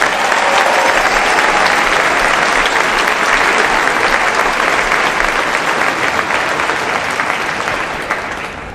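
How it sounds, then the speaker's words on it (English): Large crowd in a school gymnasium at a state championship celebration applauding the school band and dance team, sustained loud, dense clapping and cheering that continues evenly before tapering slightly at the end. "Let's give them a round of applause."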